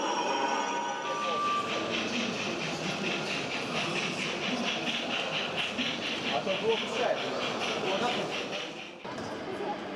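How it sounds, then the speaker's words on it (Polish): An H0 scale model train runs past on a model railway layout at an exhibition, a steady rolling rattle with rhythmic clicking and a bell-like tone, then quickly fades away. "Piesi i pojazdy cierpliwie czekają na niestrzeżonym przejeździe, aż przejedzie pociąg."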